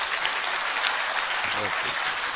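Loud, sustained applause from a hall full of hostel students greeting a revered Jain monk, an even wash of clapping throughout with a brief voice rising underneath midway.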